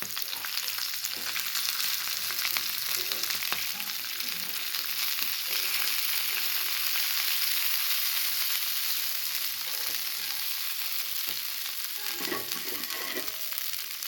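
Karonda berries sizzling in hot oil in a pan while a pickle is made, a continuous close frying hiss and crackle for the whole stretch, with a short stir or scrape near the end.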